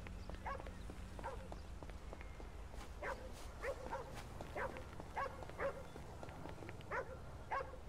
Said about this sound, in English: I'm hearing a fucking dog.